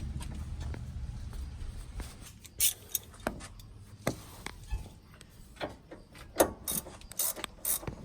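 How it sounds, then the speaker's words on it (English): A hand wrench ratchets and clanks while an airbag is fitted to a Chevrolet Silverado truck, with scattered short clicks and metallic knocks over quiet shop background. "I'm gonna have to get a wrench now."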